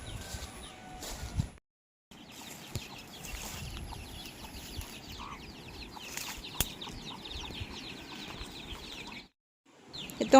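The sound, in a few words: chicken clucking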